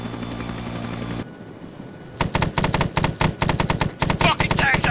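Arma 3 Vietnam mission combat: a steady engine drone breaks off, and rapid automatic gunfire follows in tight, repeated loud bursts that keep hammering to the end.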